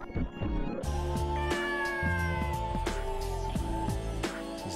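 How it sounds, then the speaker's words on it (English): A cat meows several times in the MIND Zero video game, short clear calls over a looping game music backdrop, moderately quiet and without talk. "Is that a cat?"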